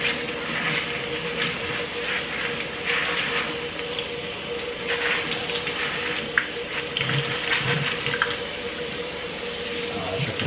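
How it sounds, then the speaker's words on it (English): Food rinsed under a running kitchen tap during meal prep, a steady loud rush of water splashing into a sink with a few clatters as items are handled. "see I'm washing them out"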